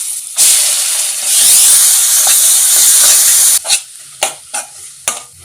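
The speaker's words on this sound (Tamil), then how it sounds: "வெங்காயம் நல்லா வதங்கி வரட்டும்" Ground onion paste sizzles loudly in a hot pan with spices, a close, steady frying hiss that swells as it is stirred, then breaks into a few sharp spatters and scraping stirs.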